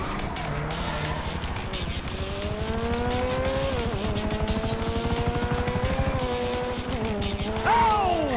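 Helicopter rotor whirring in GTA 5 over engine and tire noise from the game's action, a steady loud drone with rising tones, swelling near the end.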